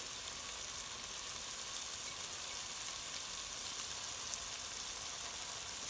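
Egg chilli fry sizzles steadily in a hot pan, a continuous bright crackle and hiss at moderate loudness with no pauses.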